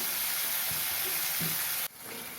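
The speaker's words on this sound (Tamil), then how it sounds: "கத்திரிக்காய் சேர்த்து நல்லா வதங்கிட்டோம்" Brinjal sautés in a pan for kara kuzhambu with a close, steady hiss of frying that drops away abruptly near the end before settling into a quieter sizzle.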